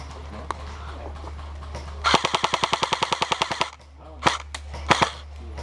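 A burst of rapid airsoft gunfire rattles off in an outdoor skirmish, about fifteen quick shots in a steady rhythm, followed by a few louder separate pops, with faint talk in the background.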